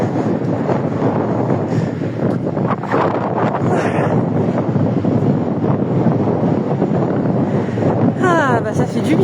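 Wind blowing at the seaside at falling tide, a steady loud rush buffeting the microphone throughout, with people talking faintly underneath and a brief sharp chirp near the end.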